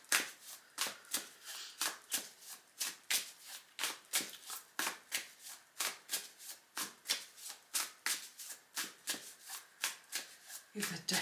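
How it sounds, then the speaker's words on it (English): A deck of tarot cards is shuffled over and over in a steady riffling rhythm of about thirty quick crisp bursts, close and clear, with no talking. "Give the deck a good old shuffle."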